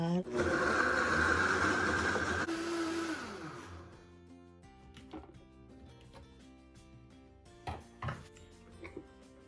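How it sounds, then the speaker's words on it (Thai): A kitchen blender whirs loudly while blending cucumber juice for a few seconds, then winds down and stops; afterward come faint clinks and soft handling sounds in a quiet room. "น้ำแตงกวาปั่นรับรองว่าอร่อยสุดๆค่ะ"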